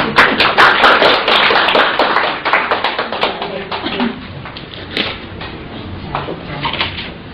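A small group applauds in a clinic room, with a quick burst of scattered, close hand claps that thin out and fade to a few isolated taps.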